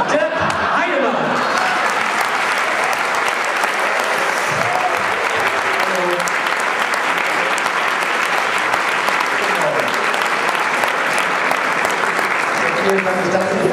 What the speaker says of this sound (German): Begrüßen Sie mit einem ganz herzlichen Applaus zum wiederholten Male 39 Jahre in diesem Jahr geworden, Herrn Dirk Heidemann